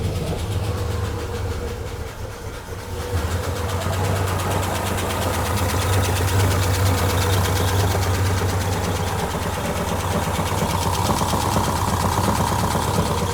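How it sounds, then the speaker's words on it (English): A turbocharged Ford Fairmont idles after start-up, its exhaust system showing leaks; a loud, steady, slightly rough engine drone with a continuous low hum carries on throughout, with no voices. "Engine doesn't sound great"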